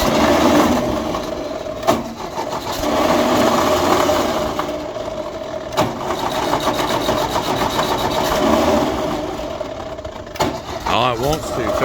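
An old tractor engine cranks over and over, trying to fire without catching, a steady churning mechanical drone with brief bursts that fades near the end, while voices talk over it.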